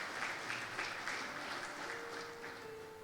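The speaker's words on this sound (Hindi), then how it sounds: "तालियां बजा दें यार।" An audience claps steadily in a dense, continuous wash of applause that fades slightly toward the end, with a faint tone under the clapping.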